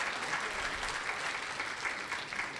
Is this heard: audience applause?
yes